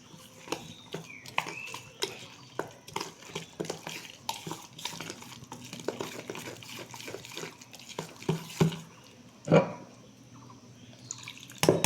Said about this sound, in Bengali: এটাকে আমি জল দিয়ে অল্প অল্প জল দেবো, জল দিয়ে এটা একটা মোটা ব্যাটার তৈরি করব।